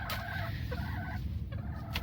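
Chickens clucking and murmuring close by, a steady low chatter of fowl with a couple of sharper calls.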